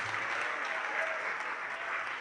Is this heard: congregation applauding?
yes